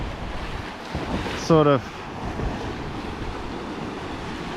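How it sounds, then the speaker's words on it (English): Ocean waves and steady wind roar around a sailboat crossing the Atlantic with a cross swell, a broad continuous wash with gusty microphone buffeting, close and loud, while a person briefly speaks. "Don't know whether you've been able to see the waves or not, but the waves are coming"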